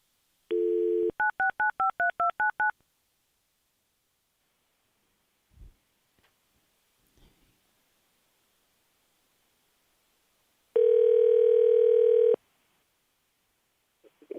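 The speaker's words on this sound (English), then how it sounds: "I have to get Misty on the phone here" Telephone keypad dialing during a county commission meeting: a burst of rapid DTMF beeps, a few quiet thumps, then a long steady ringback-style tone, all clear and alone without talk.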